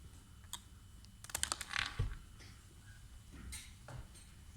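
Keys pressed on a calculator while working out a 99% confidence interval, a quick flurry of light plastic clicks and taps in the middle, with a few scattered single presses before and after, close and fairly quiet.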